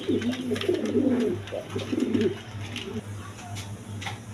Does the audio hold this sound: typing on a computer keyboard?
no